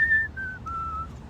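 A single person whistles a clear melody in a song, three sustained descending notes, close and fairly soft over a low, quiet musical background.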